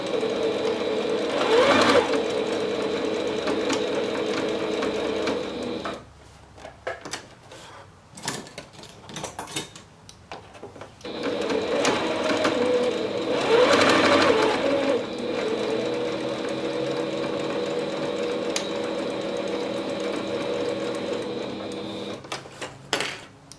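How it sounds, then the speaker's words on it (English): A sewing machine whirs in steady, fast bursts, top stitching fabric, pausing briefly between runs before starting up again, close and loud. "I'm going to take this back over to my sewing machine."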